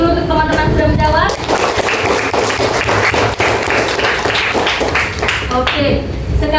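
Classmates clap for one another in a classroom lesson: a dense, continuous round of applause from many hands lasting several seconds, with a teacher's voice heard briefly before and after.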